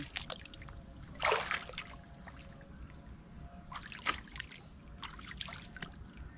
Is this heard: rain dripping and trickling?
yes